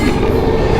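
A passing train rumbles close and loud beside a Virginia back road, a brief, steady roar of rail wagons with metallic rattle and no voices.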